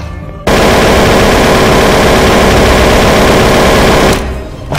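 Rapid machine gun fire from the video game SCP Breach, a loud unbroken burst of several seconds that starts abruptly and tails off near the end.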